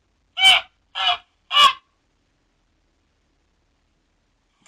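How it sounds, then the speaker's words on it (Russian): A goose gives three short, loud honks in quick succession, then falls silent before a fourth honk begins at the very end. "Гусь."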